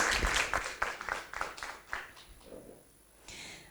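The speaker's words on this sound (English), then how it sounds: "Please give him a big applause" Audience applause at a university summer course panel session, a burst of clapping that thins out and fades midway, with a brief swell again near the end.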